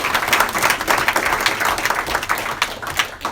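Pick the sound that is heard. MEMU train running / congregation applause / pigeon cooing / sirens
congregation applause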